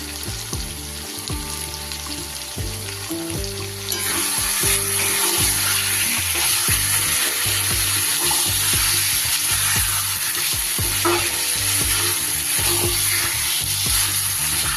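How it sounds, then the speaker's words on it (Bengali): Marinated red chili chicken sizzles loudly in oil in a pan as it is stir-fried for a spicy chicken curry with potatoes, a steady crackling hiss with bright spatter and occasional scraping, growing louder partway through. "আরো কিছুক্ষণ আমি চিকেনটা ভালো করে কষতে থাকি।"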